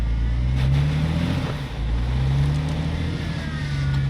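Car reversing through snow, its engine a steady low drone with a brief surge partway through, close by and continuous with no one speaking.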